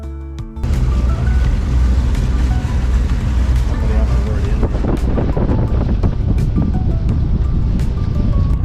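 Strong wind buffeting a boat at anchor in a bay, a loud steady roar of gusts over the microphone with low rumbling and occasional knocks, continuing without a break.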